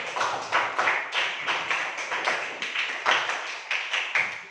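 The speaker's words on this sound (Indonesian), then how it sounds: "tepuk tangan untuk Ubaid" A classroom applauding a student named Ubaid, with a short burst of steady, moderately loud hand clapping in quick rhythmic pulses.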